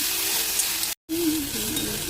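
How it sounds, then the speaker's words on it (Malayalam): Cooked green banana stirred into a hot spice mixture in a pan gives a close, steady sizzle with scraping, broken by a brief cut of silence. "മിക്സിങ്ങിലേക്ക് വേവിച്ച് വെച്ച പഴം ചേർത്ത് കൊടുക്കാം. നല്ലതുപോലെ ഒന്ന് മിക്സ് ആക്കി കൊടുക്കാം."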